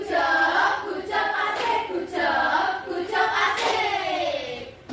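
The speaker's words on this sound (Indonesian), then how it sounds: "Ayo kita beri tepuk tangan." A classroom of students claps for a classmate after a presentation in a microteaching lesson. Close, lively rhythmic clapping comes in bursts, mixed with voices chanting together.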